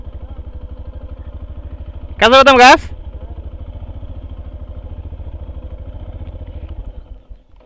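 A motorcycle, ridden up a hill road in direct gear, runs close by with a steady, rapid idling thump; someone speaks briefly over it partway through before the engine cuts off near the end.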